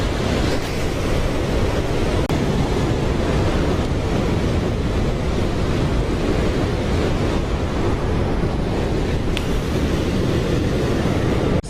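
Ocean waves break on the shore of the Transkei coast in South Africa, a loud, continuous roar of surf mixed with wind buffeting the microphone.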